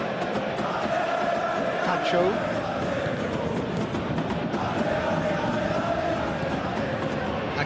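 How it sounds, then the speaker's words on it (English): Football stadium crowd in a PES video game simulation of a PSG versus Arsenal Champions League final, a steady loud roar with chanting swells, running continuously under match commentary. "Maybe the crowd will stay a little quieter next time."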